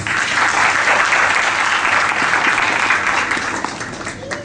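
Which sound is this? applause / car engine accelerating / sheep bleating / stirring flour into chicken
applause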